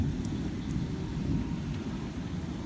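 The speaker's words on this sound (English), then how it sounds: "It is thundering extremely loudly." Loud, deep rolling thunder rumbles through a severe storm, with steady heavy rain hissing underneath and no voices.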